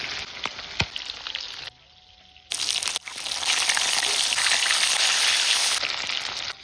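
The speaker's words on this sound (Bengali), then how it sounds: "কড়াই গরম হয়ে গেছে, মাছ ভাজার জন্য দিয়ে দিচ্ছি সর্ষের তেল।" A live snakehead fish fried in hot mustard oil in a kadai, giving a loud, steady crackling sizzle after a short quiet gap, with a brief pause before the spatter builds and holds.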